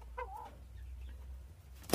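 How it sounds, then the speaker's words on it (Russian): A pheasant rooster in an aviary gives a short clucking call near the start, followed by quiet and then a brief sharp noise at the end, with no talk. "Петух кокает."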